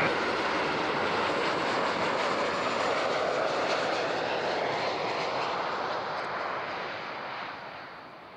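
An airliner lands on runway 14 at Zurich airport, its engines a broad, steady roar that stays loud and near for several seconds before slowly fading toward the end, with no speech.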